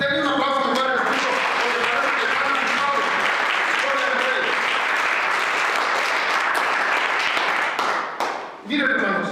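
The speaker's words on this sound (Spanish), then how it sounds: "Denle un aplauso a Padre Jesús." A church congregation applauds in a long, dense wash of clapping that fills the space for several seconds, then cuts off abruptly near the end.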